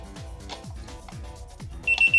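A high electronic beep from a Mustool clamp multimeter sounds near the end, loud and steady, after a stretch of quieter rhythmic mechanical noise.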